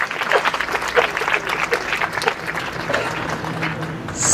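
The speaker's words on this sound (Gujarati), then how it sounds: "એટલી તાળી તો ભાઈઓએ પાડી દીધી" An audience at a Gujarati talk applauds, a dense crowd clapping that holds steady for several seconds and then fades, with faint voices mixed in.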